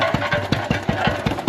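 A homemade tractor powered by a Fairbanks Morse engine runs nearby. It chugs in a slow, even rhythm of about five or six heavy thumps per second over a low mechanical hum.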